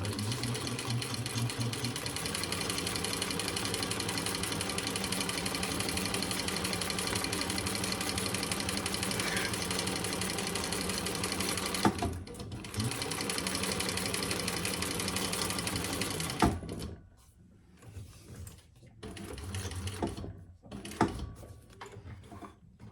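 A sewing machine stitches a leather crossbody bag in a steady, loud run of rapid mechanical clatter, pausing briefly and reversing for a few backstitches before going forward again, then stopping; quiet handling noises follow.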